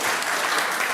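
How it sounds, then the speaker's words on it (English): Congregation at a Sunday church service applauding to welcome newcomers, a dense, steady wash of clapping from many hands that carries evenly through the whole second with no voices rising above it. "Big applause to our friends who are here new."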